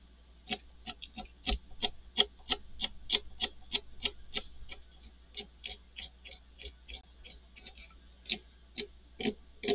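Scraping supports off resin 3D printed toys, a steady series of short, crisp scratching strokes repeating roughly every third of a second, close and fairly quiet with no talking.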